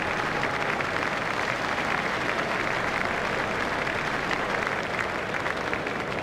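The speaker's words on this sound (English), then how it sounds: "Everyone is standing to applaud him off the field." A cricket crowd at a South Africa versus Australia one-day international gives Ricky Ponting a standing ovation as he leaves the field after scoring 107, a dense, continuous roar of applause, loud and unbroken throughout.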